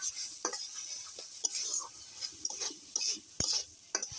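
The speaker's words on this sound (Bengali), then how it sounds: "এই আমার পুরটা ফ্রাই হয়ে আসছে," Chicken singara filling being stirred and fried in a pan, with a steady sizzle and repeated scraping of a spoon against the metal, nearby and fairly loud, no voices.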